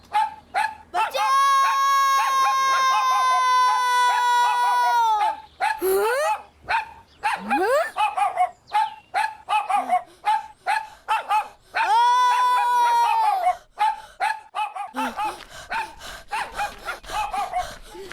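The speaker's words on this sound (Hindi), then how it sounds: "ये कुत्ता तो मेरे पीछे ही लग गया।" A cartoon dog barks while chasing someone in a 3D animated kids' series, with loud yelping cries and sustained whines mixed with bursts of rapid barks and frantic action sounds.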